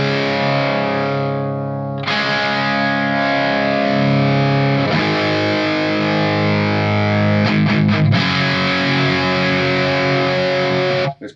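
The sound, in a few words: electric guitar through Marshall 1959HW Super Lead 100W tube amp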